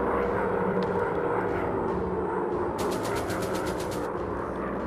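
WWI bombers fire their machine guns during a night dogfight in War Planes WWI, a rapid rattling burst of about ten shots over the steady drone of aircraft engines, with no talk.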